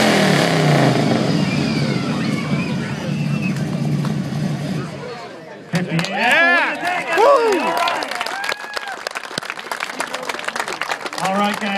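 A muffled street car at a car show revving contest roars loudly for several seconds, then gives way to crowd cheering, clapping and talk.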